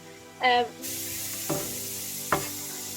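Red onion frying in a pan, a steady sizzle underneath with a few sharp scrapes of a utensil stirring it, one louder scrape near the start followed by softer ones.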